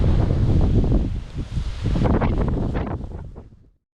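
Strong wind roars and buffets the microphone at a forest campsite near a tent at night, a loud continuous rush with gusts that fades out toward the end.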